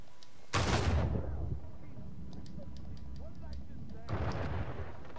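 A loud explosion blasts in a cave in Uncharted 4, a sudden heavy boom that rumbles and decays, followed by a second burst of noise near the end, with faint game sounds between.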